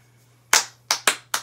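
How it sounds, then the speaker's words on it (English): Slow hand clapping sounds close and crisp. After a quiet moment come four sharp claps at uneven, unhurried intervals, with a faint low hum underneath. "Why are you clapping so slow?"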